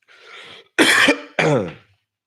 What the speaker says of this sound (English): I'm coughing up a lung for y'all